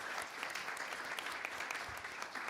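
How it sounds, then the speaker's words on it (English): Applause for the first elected mayor at a Village of Broadview regular board meeting, a fairly quiet, steady round of clapping from a small room that carries on evenly for the whole stretch. "So let's give Mayor Jones a round of applause for being our first elected mayor in the village of Broadview."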